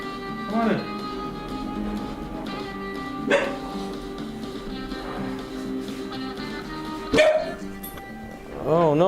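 A pet puppy barking in bursts indoors, several sharp yips and barks standing out over steady background noise with a whimpering, wavering cry at the end.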